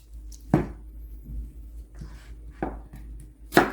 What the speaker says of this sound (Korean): 이렇게 천천히 이게 칼집을 넣어서 다지시면 되겠어요